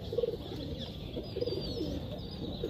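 Soft, low Kaldum pigeon coos repeat a few times at a steady pace, fairly close, over a constant background hum and hiss, at a pigeon loft.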